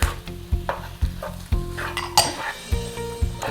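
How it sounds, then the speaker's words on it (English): A pan of food with nutritional yeast and turmeric being sautéed, with a steady sizzle under repeated rhythmic scrapes and knocks of a utensil against the pan, close and fairly loud. "Then we'll just saute it up."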